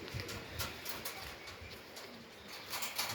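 Pigeons in a yard coo softly and repeatedly at a distance under steady wind noise, with no voices present.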